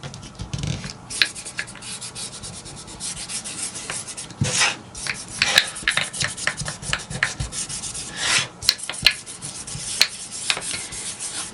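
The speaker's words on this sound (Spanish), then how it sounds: "vamos a apretar bien para que quede bien pegadito" Hands press and rub decorative scrapbook paper firmly onto a shabby chic craft box, producing close, dry scraping and rubbing strokes in irregular bursts with short pauses between.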